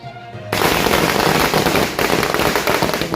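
Firecrackers burst at an outdoor Shiv Sena celebration held by the Warkari community, erupting after a brief lull into a loud, dense, continuous string of rapid crackling pops that barely lets up.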